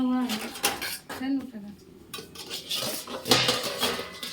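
A metal lid clatters onto a cooking pot while oil-free fish curry cooks, with several bright clanks and scrapes of metal over a faint voice in the background.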